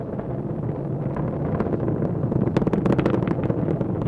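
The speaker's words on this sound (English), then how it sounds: "we know that Falcon 9 is throttling back up" SpaceX Falcon 9 rocket engines roaring during the Crew-8 ascent as the first stage throttles back up after max Q: a continuous, dense broadband rumble with a crackling texture that swells slightly louder toward the end, with no talk.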